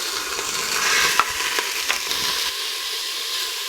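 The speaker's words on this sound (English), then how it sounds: "Okay, so we're just going to brown up our hamburger." Hamburger meat browns in a little oil in a pan for chili. A close, steady frying sizzle comes with a few soft stirring scrapes and no talking.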